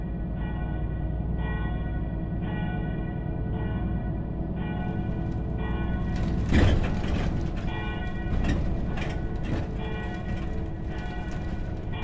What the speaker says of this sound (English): Please stop the church bells ringing on my nerves.